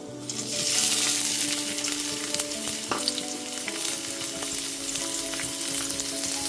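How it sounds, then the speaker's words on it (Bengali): Chopped capsicum stir-fried in a pan for fried rice, a steady close sizzle with stirring scrapes and an occasional clink of utensil against metal. "ক্যাপসিকামটাও নাড়াচাড়া করে ভেজে নিয়েছি।"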